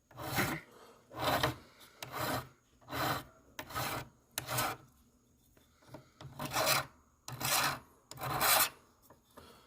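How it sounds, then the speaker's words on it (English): A metal file rasps flux off a wire bracelet in repeated short strokes, about ten rhythmic scrapes with brief pauses between, close and fairly quiet. "all the flux that I'm basically just filing off here"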